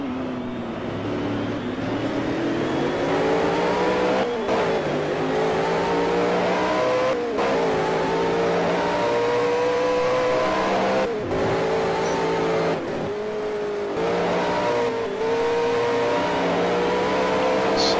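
Touring cars race at Pukekohe in a video game set in round 4 of the 1985 New Zealand touring car championship. Loud, continuous engine whine rises and falls through gear changes, with several abrupt cuts and renewed revving and no voices.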